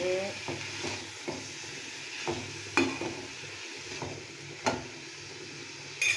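Shredded cabbage and potato poriyal fries quietly in a pan while a spoon stirs it. Soft, regular scrapes and taps sound over a low, steady sizzle.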